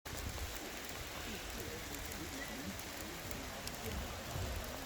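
Steady rain falls through the Muir Woods forest near San Francisco, a dense, even hiss of drops on leaves and ground that continues unbroken and fairly close.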